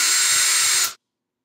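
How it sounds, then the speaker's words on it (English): A power drill boring a hole into a TV whirs loudly and close for under a second, then cuts off abruptly into silence. "In this case, you'll have to drill a hole into the TV."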